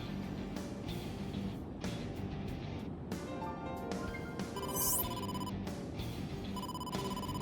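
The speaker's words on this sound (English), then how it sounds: "incoming call from the boss" Phone ringing for an incoming call in the video game AI: The Somnium Files, a repeated electronic ring tone in short bursts over a low background hum, fairly faint.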